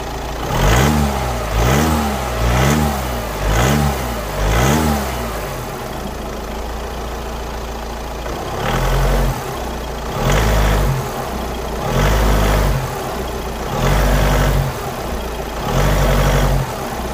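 Car engine revving repeatedly during a clutch check with the handbrake on, the unit shaking on worn engine mounts; steady idle rumble broken by about eight loud, rhythmic rev bursts, no talking.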